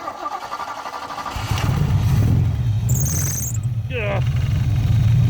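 The swapped V8 in a 1974 Ford Maverick catches and settles into a loud, rumbling run up close, with a brief voice and some high-pitched squeals over the engine.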